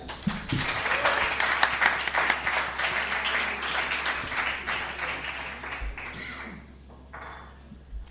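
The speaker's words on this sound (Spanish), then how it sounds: "un aplauso para Ethan" An audience at a live gaming podcast event applauds for a guest, a dense, sustained burst of many hands clapping that fades out toward the end, with a few taps and thumps.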